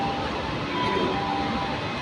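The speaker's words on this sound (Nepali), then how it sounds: "यहाँनिर चाहिँ यो मेट्रो यति बेला सर्र चाहिँ हिँडिरहेको छ र यति बेला रोकिरहेको छ" A Delhi Metro train moves and stops at Chhatarpur station with a steady rumbling roar and a faint electric whine. No one speaks.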